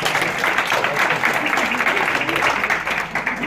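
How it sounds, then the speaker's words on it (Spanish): Conference audience applauding, a dense, even patter of many hands clapping that holds steady for several seconds before thinning slightly at the end. "Aplaudidlos."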